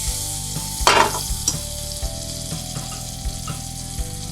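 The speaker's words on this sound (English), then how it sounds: "For which we'll add butter into our pan." Butter sizzles loudly in a pan before a burrito wrap is toasted, a steady close crackle with a bright splash of hiss near the start and soft taps from the pan, with no voices.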